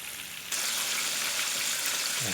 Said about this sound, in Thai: ตั้งกระทะให้ร้อนแล้วก็ ทอดกันเลยครับ